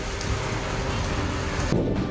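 Wind-driven rain from the bands of Tropical Storm Debby at Fort Myers Beach makes a steady, dense roar of rain and gusts, with a brief shift in the noise near the end.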